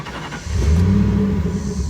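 A Ford F-150 truck engine catches and starts, then settles into a loud close rumbling idle with a brief rise in revs.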